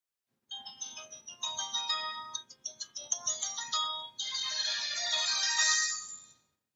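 A phone rings with an incoming voice call, its electronic ringtone melody looping in short repeated phrases, then one sustained busier stretch before it cuts off. It is clear and alone, without talk.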